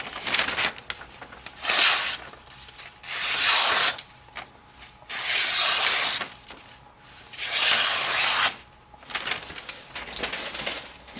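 An Enzo Birk 75 knife blade slices through material in repeated long strokes, each a broad raspy rub lasting about a second, separated by brief pauses, close and fairly loud with no talk.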